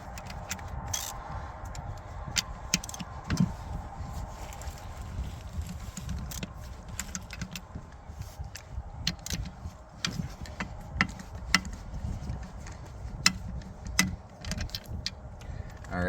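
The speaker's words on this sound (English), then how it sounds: "Now I'm going to just spin all 6 of these off." Six 5/8 bolts are spun off a boat drive with a ratchet and socket extension, giving close, repeated metallic clicks and rattles over steady low rumble with no talking.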